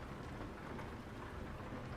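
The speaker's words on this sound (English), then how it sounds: "This rain is relentless." Heavy, relentless rain in Euro Truck Simulator 2 during daytime driving, a dense steady hiss that fills the whole clip with no talking.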